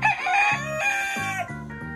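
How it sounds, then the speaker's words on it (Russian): Araucana hens and a rooster in their coop, close and loud: drawn-out crowing and clucking calls overlapping one after another, with no talk. "Куры араукана."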